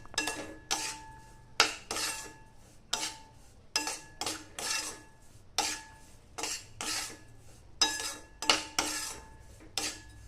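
Raisins and amaranth are sautéed in a pan over low heat, with repeated rhythmic scraping and clinking of a spoon against the metal, a quick close burst every second or so over a faint background.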